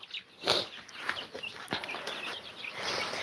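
Soft, high chick peeps and light clucking scattered through a noisy outdoor background near a strawberry patch, fairly close but not loud.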